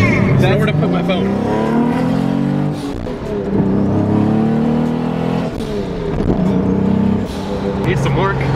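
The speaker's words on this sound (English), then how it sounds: "It's the engine sputtering." The idling engine of a turbocharged 460whp Acura NSX runs rough and uneven, its low note surging and dropping in irregular stumbles with crackling pops, heard close with people talking over it.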